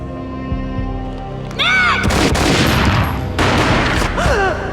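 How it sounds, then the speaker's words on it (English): Gunfire in the PS2 video game Max Payne: loud booming shots and a dense burst of rapid fire erupt after a quiet stretch, with whooshing slow-motion effects around them. "A gunshot boomed and she fell down in slow motion."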